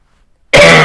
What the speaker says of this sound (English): I think my candle's making me cough.